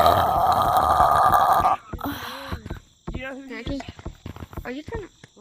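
A loud, harsh burp lasting about two seconds, done as a prank right in someone's face, then cut off abruptly and followed by people talking.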